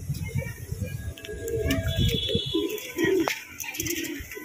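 Pigeons coo at close range in the evening, soft repeated low throaty calls overlapping one another, with faint chirps and rustling in the background.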